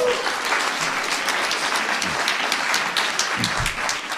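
A studio audience gives a burst of dense, sustained applause, loud and continuous throughout, with a faint voice underneath.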